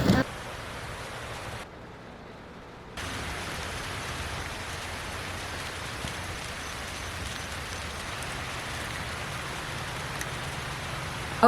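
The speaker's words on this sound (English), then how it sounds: "it is yet another gloomy rainy day in a row" Steady rain falls throughout on a gloomy, overcast day, a dense even patter with a brief quieter dip early on before the downpour resumes at full strength.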